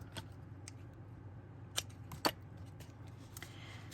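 Scissors cut paper with a few sharp, close snips spaced irregularly against a quiet background, two of them especially crisp.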